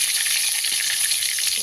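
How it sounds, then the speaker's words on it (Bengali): Turmeric-and-salt-rubbed eggplant rounds fry in hot oil, a bright, continuous close sizzle with a crackling hiss at even loudness and no talking. "এখন বেগুনগুলো ভেজে নিচ্ছি।"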